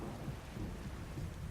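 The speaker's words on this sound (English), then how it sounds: "Raining again." Steady rain with a low rumble of thunder inside the video game The Witcher 3, a constant wash of downpour with no voices over it.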